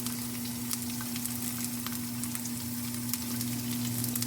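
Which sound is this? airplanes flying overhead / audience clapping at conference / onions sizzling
onions sizzling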